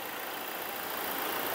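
A 2017 Toyota Hilux running steadily after an engine replacement, its engine giving a continuous broadband hum at close range with no pauses or voices.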